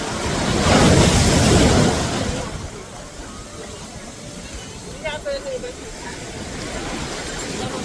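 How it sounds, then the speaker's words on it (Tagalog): High waves breaking on the beach at Nasugbu port in Batangas, a loud surge of surf early on that eases into a steady wash with wind noise; voices talk briefly over it. "Taas ang alon."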